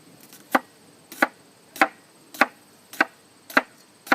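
A sharp knife chops through a bell pepper on a cutting board, seven crisp evenly spaced cuts at a steady rhythm, close and clear with no talk.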